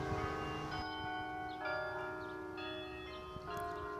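Church bells ring out across a town in Indiana, Pennsylvania, several bells sounding together in overlapping sustained tones, with fresh strikes every second or so and no voices.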